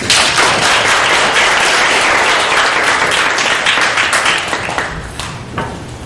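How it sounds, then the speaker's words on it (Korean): Lecture audience gives a loud round of applause welcoming a speaker at a Korea friendship event, dense close clapping that tapers off toward the end. "이제 김민희 소장님을 큰 박수로 맞이해주시기 바랍니다"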